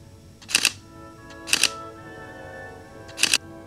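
Camera shutter firing three separate clicks, spaced about a second apart, close and crisp during a product photography shoot with a Sony FE 90mm f/2.8 Macro G OSS lens, with quiet room tone between shots.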